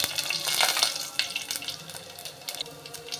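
Finely chopped garlic sizzles in hot oil for a sardine fish curry, a steady bright crackling hiss with brief louder spatters throughout.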